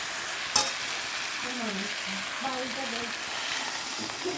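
Bhetki fish curry fries in a pan with a steady, close sizzle, a sharp clatter of stirring near the start and a faint voice murmuring underneath.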